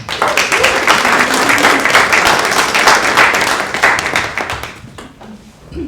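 An audience at a talks event welcomes the next speaker with loud, close applause. Dense overlapping claps run for about five seconds, then thin out and fade near the end.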